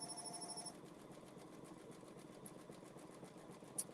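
An embroidery sewing machine stitching, a steady soft mechanical whir with a rapid pulsing beat, faint and alone, with a brief high beeping tone at the start and a small click near the end.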